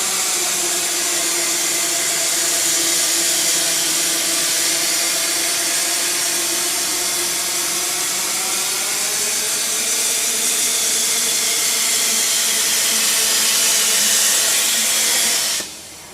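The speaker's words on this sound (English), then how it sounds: "So it's going to rotate 180 degrees and automatically cut that second hole. Now this hole happens to be beveled. So it's going to bevel this hole." Pipe profiler automatically cutting and beveling a hole in a pipe, a steady loud hissing roar from the cutting torch that holds evenly for about fifteen seconds before cutting off sharply.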